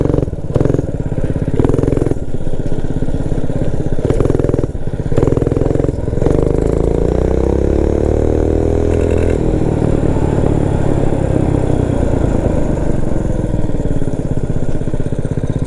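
A Motovox minibike with a Predator 212 engine being ridden, its small single-cylinder engine loud and close, revving up and down before settling into a steady drone.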